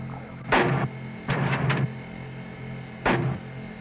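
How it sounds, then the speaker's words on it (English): Warning shots fired into the air from a U.S. Navy river patrol boat in Vietnam: a single sharp report, then a quick burst of three, then one more, each loud and echoing over a steady boat engine drone. "Warning shots fired in the air are the signal for a suspicious craft to stop and identify itself"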